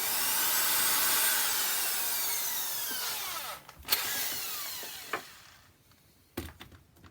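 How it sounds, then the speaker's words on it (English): A drill countersinks screws into a 2x4 board: a loud whining bite that winds down and fades, followed by a few short sharp clicks and bumps as the bit stops. "I'm going to end up countersinking the bottom into the 2x4."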